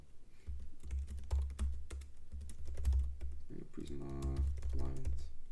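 Code for a Prisma and SQLite database lesson is typed on a computer keyboard, rapid close key clicks in bursts with someone speaking briefly over them.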